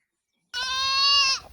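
A sheep bleats once, a single loud, close, sustained call with a wavering tone, starting after a brief silence and fading at the end.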